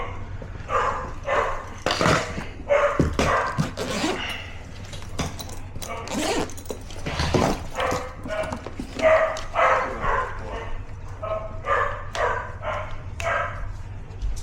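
Dogs barking outdoors at a house during an HVAC service call, with sharp barks and yips repeating through most of the stretch amid people talking and a steady low hum from the running unit.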